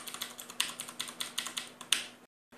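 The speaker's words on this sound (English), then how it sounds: "This is the keyboard. It features Cherry MX blue switches." Rapid typing on a Ducky Shine 3 TKL tenkeyless mechanical keyboard with Cherry MX Blue switches: close, crisp clicky keystrokes in an uneven steady stream, with no voices, then a sudden stop into silence.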